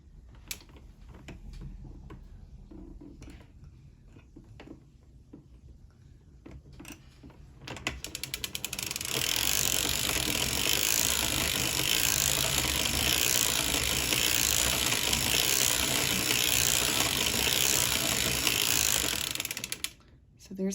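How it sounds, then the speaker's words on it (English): A hand-cranked circular sock machine knits rows, its steady ratcheting mechanical clatter quiet and sparse at first, then swelling into a loud, dense, continuous whir that runs without pause until near the end. "I'm going to start by just cranking about 10 rows."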